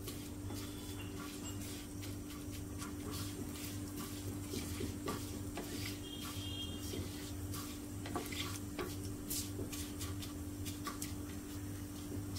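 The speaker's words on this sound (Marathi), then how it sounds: "तर फोडणी चांगली तडतडू द्या" Tempering spices for fenugreek muthiya crackle and pop faintly in hot oil in a pan, a soft continuous sizzle dotted with small sharp snaps and a low background hum.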